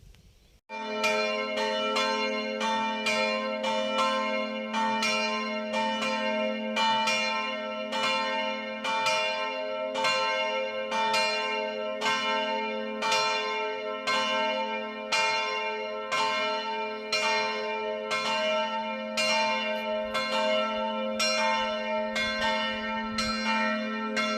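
Church bells ring from a bell tower in steady, repeated strokes about once a second for over twenty seconds. A continuous resonant hum lingers beneath the strikes, and no voices are heard.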